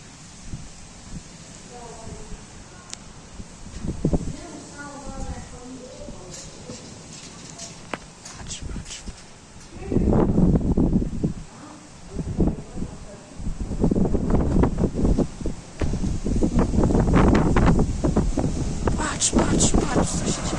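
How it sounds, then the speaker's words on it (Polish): Wind gusts in a hailstorm in Kunów, Poland buffet the microphone in rising, roaring bursts, growing stronger and more sustained toward the end, with people talking faintly in between. "idzie kolejna fala wiatru"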